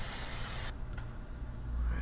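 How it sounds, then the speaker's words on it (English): Spray can hissing in the horror game Erie, a loud, steady burst of spray that cuts off abruptly after under a second and leaves quiet ambient rumble. "Can I spray in the water?"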